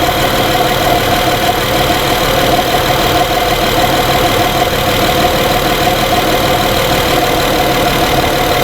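Engine of a 2011 Honda Pilot with a surging and stalling fault, a loud, steady, close engine drone that holds evenly throughout with no clear surges or cutouts, and no voices.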